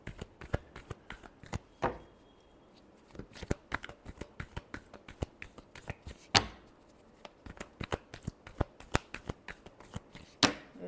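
Tarot cards are shuffled by hand in a series of soft, crisp riffling bursts and flicks, separated by short pauses and heard close and alone.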